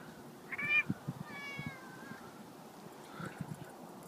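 A cranky pet cat meows nearby, two or three short, whiny cries spaced across a few seconds, with soft rustling between them and no speech.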